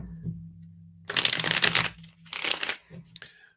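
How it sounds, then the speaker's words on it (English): Tarot cards are shuffled by hand in two quick, close bursts of papery riffling separated by a short pause, with a faint voice and low background hum. "I'm just going to shuffle these up here."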